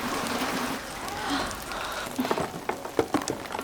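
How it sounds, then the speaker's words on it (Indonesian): Rain falls steadily outside a shipping container, a soft hiss that swells midway, then sharper drips and patters begin striking a surface near the end, with no voices. "hujan pun turun, dan Mia dengan cepat menampung air"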